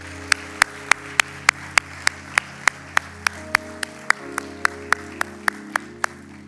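Congregation at a French-speaking church service clapping in thanks for Frère Wayne, a regular, evenly spaced beat of sharp claps like a rhythmic unison clap, over a low sustained hum.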